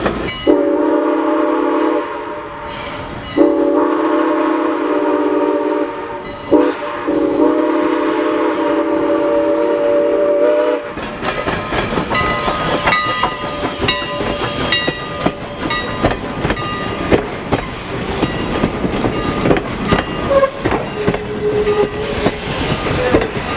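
Strasburg Rail Road train No. 89 rolls past close by, with a steady horn-like tone at first, then loud rattling and clattering of cars going by continuously.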